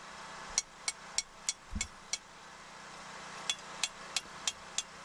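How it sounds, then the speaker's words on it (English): A slag hammer knocks slag off welded steel hinges, a series of sharp metallic taps in two bursts, about six strikes, a short pause, then six more, close and clear over a low hum. "I took the slag hammer to it to knock the slag off."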